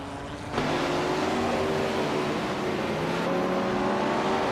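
Racing car engines, including a Ferrari 330 P4, drone steadily around a track in a racing video game, a continuous loud whine with shifting pitch as cars hold speed, no talking.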